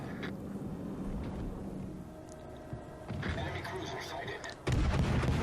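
Naval guns firing from a warship in World of Warships Legends, deep booms and heavy thuds rumbling over a background of engine and sea noise, with a louder blast near the end and people talking throughout.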